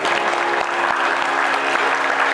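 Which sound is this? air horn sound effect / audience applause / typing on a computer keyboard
audience applause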